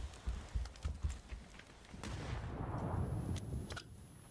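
A grenade goes off in a competitive shooter match. Quick clicky taps give way to a loud, rumbling blast that swells and then fades.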